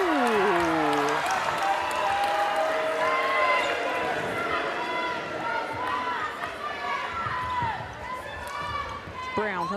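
A netball crowd at a Netball Super League game between Loughborough Lightning and Severn Stars shouts and cheers loudly throughout. Ball bounces and footfalls mix in, and a commentator talks over the noise.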